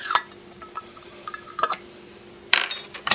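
A warm metal canning lid set onto a glass jar of pickled beets with a magnet, giving a few light metallic clinks and taps at the start, middle and end, close up with no talking.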